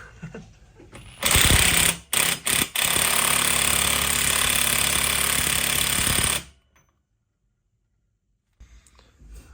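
An impact gun rattling hard in loud bursts during a rear brake kit install on a C5-C6 Corvette, one short burst, quick stutters, then a sustained hammering run of several seconds that stops abruptly into near silence.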